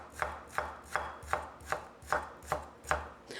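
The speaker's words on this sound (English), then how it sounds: "So for the home fries, I just need to chop it smaller pieces like this." A knife chops an onion into small pieces on a cutting board for home fries, eight crisp, evenly spaced strokes close up, with no talking.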